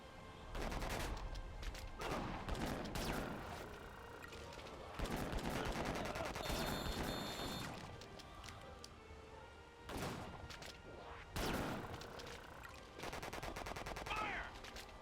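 Gunfire in the video game Disaster: Day of Crisis comes in rapid bursts of sharp shots and crackling volleys, near and loud, broken by short pauses, with brief voices and game sounds mixed in.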